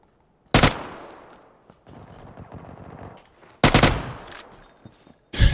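A gun in the PUBG video game fires in two short, loud automatic bursts several seconds apart, each with a ringing tail. A third burst starts at the very end, and no voices are heard.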